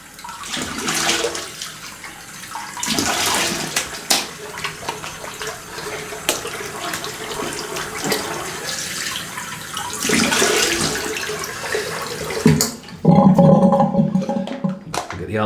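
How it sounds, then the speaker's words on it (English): Cold water runs from a tap for a face rinse during a wet shave with a Mühle R41 safety razor, a broad steady wash that swells and eases over about fifteen seconds, with a brief louder gush near the end. "let me have a quick cold water rinse"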